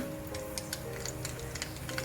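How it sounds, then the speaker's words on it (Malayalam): Small sharp pops and crackles burst irregularly from hot oil, quiet and close, over a faint steady hum. "കടുക് പൊട്ടി തുടങ്ങി."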